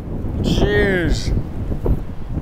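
Strong gusting wind buffets the microphone on a disc golf course during practice, a rough low rumble throughout, while a person's voice briefly rises over it.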